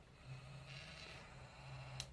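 A Carp Design Freedom Camo 3D carp fishing bite alarm in vibrate mode gives a low, steady buzzing hum in two stretches, faint and close, ending with a short sharp tick.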